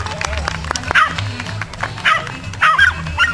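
A small dog yips and barks a few times during an agility competition, amid crowd noise and a commentator talking over it.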